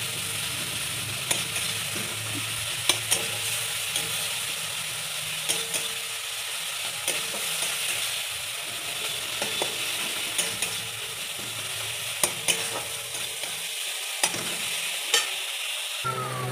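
Chopped tomatoes sizzle steadily in a frying pan for a rohu fish curry, with periodic scraping and clinking of a spatula stirring through the mix, close and continuous without talk.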